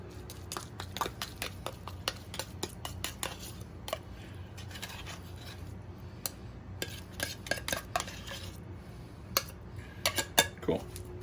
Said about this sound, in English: scrape my tuna up